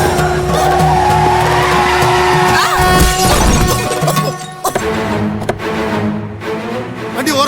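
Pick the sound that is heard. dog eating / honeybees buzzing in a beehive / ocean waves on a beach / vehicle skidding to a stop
vehicle skidding to a stop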